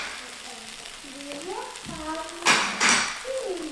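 Julienne-cut potatoes stirred in a frying pan, a steady sizzle with two louder scraping stirs of a utensil against the pan near the end, while a faint voice murmurs underneath.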